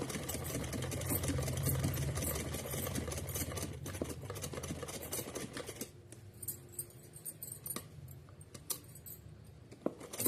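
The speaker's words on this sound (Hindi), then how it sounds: "एक सिलाई और लास्ट लगा देती हूँ पक्का करते हुए" A sewing machine stitches a small doll dress for a Laddu Gopal idol, a fast steady mechanical whirr and needle patter that eases into slower, sparser clicks toward the end, with no talking.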